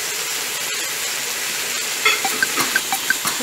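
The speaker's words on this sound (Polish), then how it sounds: "Smażamy teraz wszystkie warzywa razem z wołowiną" Vegetables and beef frying together in a pan for Dalmatian pasticada, a steady close hiss and sizzle throughout, with light clinks and stirring taps toward the end; no talk.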